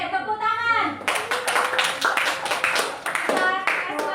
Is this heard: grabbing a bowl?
no